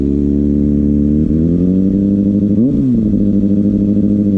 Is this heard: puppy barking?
no